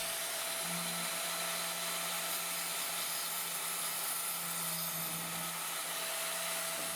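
A steady, high-pitched grinding whine of a diamond saw blade cutting through masonry, continuous and loud, with a low hum underneath.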